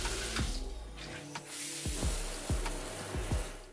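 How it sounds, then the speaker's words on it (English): A shower runs in a home bathroom as a continuous hiss of falling water, close and steady, broken by several short bumps and knocks of movement. "I'm about to jump in the shower, go use some of my new products"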